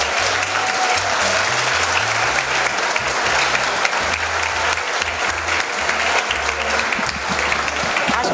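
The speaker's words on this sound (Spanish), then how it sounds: "Si no, que lo digan los comensales con un aplauso." Diners in a restaurant give sustained, loud applause, dense clapping from a large group filling the whole stretch, with no speech over it.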